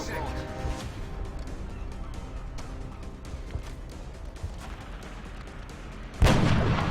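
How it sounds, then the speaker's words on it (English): Gunshots in the turn-based strategy game XCOM: Long War, several sharp cracks and thuds scattered over game ambience, ending in one loud booming blast near the end. "Got our hit and run shot."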